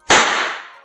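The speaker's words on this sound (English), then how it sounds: "The gunshots are still pretty loud" A single loud gunshot sound effect from a zombie video game cracks sharply, then its noisy tail fades away over less than a second.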